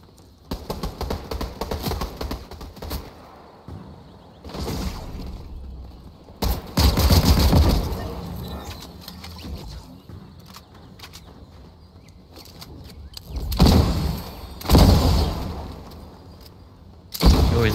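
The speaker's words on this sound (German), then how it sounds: "Und hinten schießt was." Gunfire in a Fortnite Zero Build match, with bursts of shots and automatic fire coming in clusters across the stretch, some loud and close and others fainter, along with scattered game sounds.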